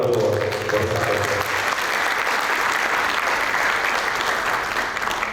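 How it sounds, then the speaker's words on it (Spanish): An audience at a presentation on the future of markets applauds El Salvador with dense, loud, continuous clapping, with a voice briefly audible at the start. "creo que un aplauso para El Salvador por esa apuesta"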